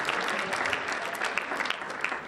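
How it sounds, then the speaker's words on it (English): A full audience at a high school hypnotist show breaks into a big round of applause, dense and loud clapping filling the space continuously with no voices on top. "give them another big round of applause"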